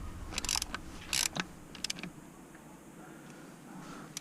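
Mechanical clicks and ratcheting from tightening glow plugs on a VW Touareg engine with an aluminium gasket, a few short close bursts separated by quiet room tone, no talking.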